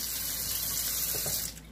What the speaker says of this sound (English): I'm going to put some water in this so they don't brown.